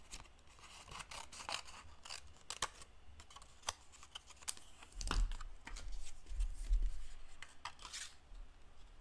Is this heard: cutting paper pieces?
yes